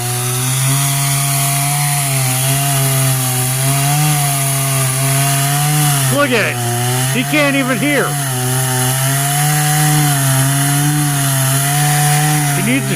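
A neighbor's chainsaw cuts wood outdoors with a dull chain and no bar oil, its loud steady drone running throughout and the pitch bending as the blade bites the wood. Someone talks quietly over it and shouts once.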